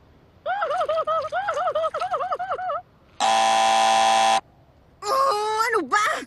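Cartoon buzzer in a Christmas cartoon: a warbling, wavering electronic tone, then a loud flat sustained buzz of about a second, then another short wobbling burst, close and alone.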